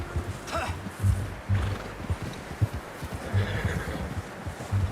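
In the video game Red Dead, a horse whinnies faintly in the distance while hooves clop steadily and other ambient noise fills the scene.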